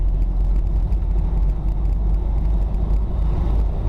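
A Toyota Corolla KE35 revived after sitting unused for three years drives along, its engine a steady low rumble heard from inside the car with no talking.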